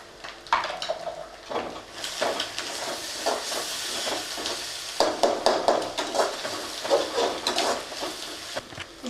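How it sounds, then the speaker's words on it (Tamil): Ginger garlic paste frying in a pan for hotel-style chicken fried rice, with clanking utensil and stirring scrapes over a soft sizzle, close and busy throughout. "ஒரு ஸ்பூன் இஞ்சி பூண்டு பேஸ்ட் போட்டுக்கலாம்."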